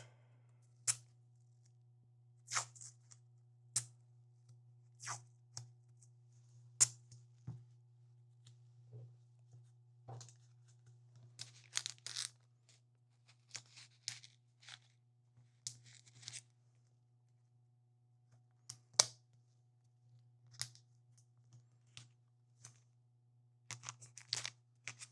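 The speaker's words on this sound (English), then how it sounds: "And then I'll take the painter's tape" Painter's tape is handled and torn in sparse, sharp crinkles and rips spread out over time, close and quiet, over a steady low hum, with no talk.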